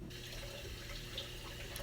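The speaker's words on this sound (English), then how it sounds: "I add about 3 to 4 spoons of flax seeds, and then you add some water." A short trickle of water is poured onto flax seeds in a kitchen, a faint splashing pour lasting under two seconds with no talking.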